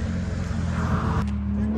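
Cars pass on a wet road in rainy weather, a steady engine drone with a swell of tire noise near the end, heard close under low background noise.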